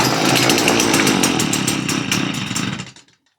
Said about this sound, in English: Okay, that's a cold start,